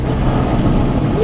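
Car driving through water in heavy rain, a dense, loud wash of hiss and rumble that builds steadily, close and continuous.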